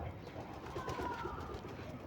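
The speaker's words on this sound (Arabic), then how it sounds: "الحمام يطلع، الحمام يروح، الحمام يجي" Pigeons on a rooftop loft, with soft bird calls and cooing over steady outdoor background noise; a faint voice is present in the background.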